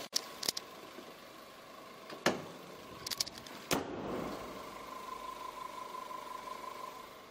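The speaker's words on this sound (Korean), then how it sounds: "경차치고 굉장히 조용한 엔진 소음이고요" A Chevrolet Spark LS+ small car engine idles quietly with a low, steady hum, broken early on by a few sharp clicks and knocks.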